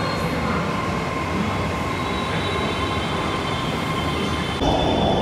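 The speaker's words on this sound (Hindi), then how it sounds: "मेट्रो से जाएंगे एक लोकेशन से दूसरी लोकेशन पर" Steady rumbling roar of a metro train running through a city, a continuous near hum of wheels and motor with faint high whine, holding level throughout with a slight shift near the end.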